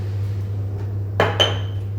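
A lid goes onto a pot of Bengali potato curry with two quick metallic clanks close together, set against a steady low hum.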